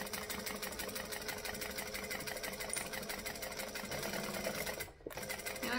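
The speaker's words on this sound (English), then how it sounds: "I'm going to stitch on and I'm going to back stitch" A domestic sewing machine runs steadily, stitching forward and back-stitching a half-inch seam, a continuous close mechanical whir that pauses briefly near the end before resuming.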